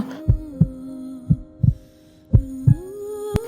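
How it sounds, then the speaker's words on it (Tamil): Heartbeat sound effect in a dramatized fan-fiction story scene: low, thudding double beats repeat steadily and close, layered over a sustained droning hum. "இப்படி அவளோட ஹார்ட் பீட் அவளுக்கே கேட்குது"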